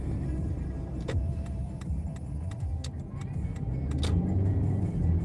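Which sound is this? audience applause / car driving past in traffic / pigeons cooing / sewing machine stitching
car driving past in traffic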